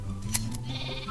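A sheep in the video game Minecraft bleats once briefly over a low background hum, followed by quieter game ambience.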